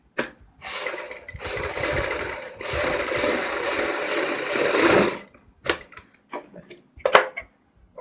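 A sewing machine runs in a steady whirring burst while stitching buckram-backed fabric along a kurti boat neckline, then stops, leaving a few short clicks and scattered handling noises.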